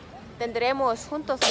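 A single sharp sneeze bursts out at the end, just after a short stretch of nearby speech.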